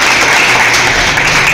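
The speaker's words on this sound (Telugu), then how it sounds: "ఒక్కసారి మీరే క్లాప్ కొట్టండి" Students clapping together in a classroom, a loud, dense wash of many hands filling the short moment without pause.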